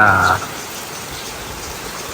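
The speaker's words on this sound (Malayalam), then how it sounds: "അടിപൊളി മഴ" A brief voice opens, then steady rain takes over as a soft, even hiss that continues to the end.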